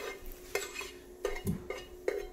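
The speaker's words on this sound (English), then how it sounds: "I'm just gonna mix it real quick" Cooked pasta being stirred together with leftover taco filling in a pot on a switched-off stove, with several sharp utensil scrapes and knocks spaced about half a second apart, close and fairly quiet.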